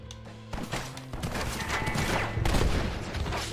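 Rapid gunfire in the Red Dead Redemption video game, a string of sharp close shots and cracks over a dense, noisy backdrop, with occasional heavier thumps.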